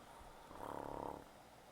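A character in Persona 5 Strikers snores once, a single drawn-out rattling breath that swells and fades over about half a second, quiet and alone against a faint game background.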